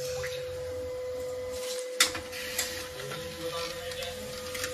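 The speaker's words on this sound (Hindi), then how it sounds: "ये दूसरा कार्ट्रिज हमने लगा दिया है, पेपर लगा रखा है और दोबारा से टेस्ट पेज देते हैं" An HP LaserJet M1005 MFP laser printer runs a test page indoors, a steady mechanical whir with a constant tone, punctuated by a sharp click and a few soft knocks partway through.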